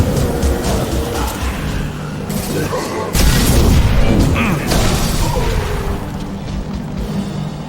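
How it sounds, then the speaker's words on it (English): A heavy high-impact shot in Mass Effect Legendary Edition, a loud booming blast that jumps in the middle over dense, constant battle noise. "Firing a high-impact shot!"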